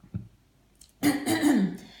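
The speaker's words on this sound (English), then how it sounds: "clearing my throat like a million times a day" A person clears their throat: a small catch first, then a loud, rasping throat-clearing lasting about a second, close up with no talk.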